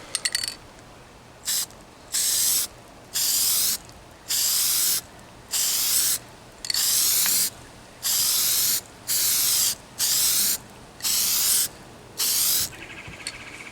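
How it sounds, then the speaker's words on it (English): Plasti Dip aerosol spray mists onto truck emblems in about ten short, evenly spaced bursts, each a loud hiss of a second or so, with quiet gaps between them. "Just kind of give it a mist, give it a little bit more adhesiveness to the surface."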